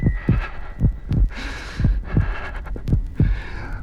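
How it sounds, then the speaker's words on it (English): Heartbeat sound effect in a ghost story: a steady, deep double-thump pulse repeating about once per half second, close and prominent, with a faint airy hiss behind it. "It was the beating of the old man's heart."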